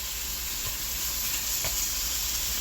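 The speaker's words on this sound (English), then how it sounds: "This is my turkey meat, you hear?" Turkey meat frying in a pan gives a steady, dense sizzle with a constant hiss throughout, plus a couple of faint soft knocks, and no voices.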